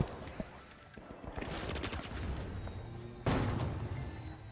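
Video game gunfire in The Finals, a dense burst of rapid automatic shots at the start and another loud burst near the end, with messy in-game noise in between.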